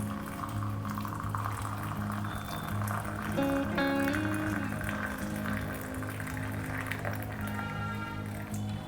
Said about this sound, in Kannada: ನೋಡಿ, ಈಗ ಬಿಸಿಯಾಗಿರುವಂತಹ ನೀರನ್ನು ನಾನು ಇದಕ್ಕೆ ಹಾಕ್ತಾಯಿದ್ದೀನಿ.